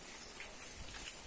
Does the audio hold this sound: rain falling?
yes